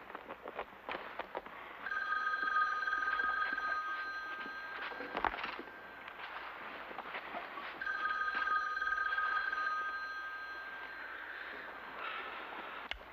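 An old telephone bell rings indoors in a 1978 television drama, sounding in two long trilling bursts separated by a pause, moderately loud over a faint room background.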